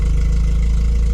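A 1988 Peugeot 205 GTI 1.9, with one high-tension plug lead losing its spark, idles roughly. It gives a loud, close, steady low engine rumble with a slightly uneven pulse throughout and no talking.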